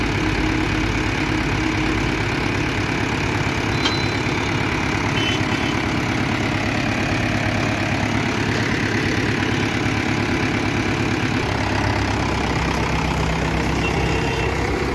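A Mahindra 575 XP Plus tractor with a harrow attached runs in a village field, its engine a loud, steady, close rumble that holds unchanged for the whole stretch with no voices.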